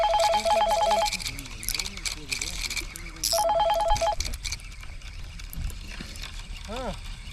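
A telephone rings during a fishing outing with two distinct bursts of repeated ringing tones separated by a pause, clear but moderately quiet beneath people talking.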